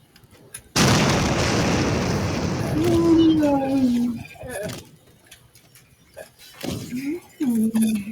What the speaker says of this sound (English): Cinematic bomb didn't help either.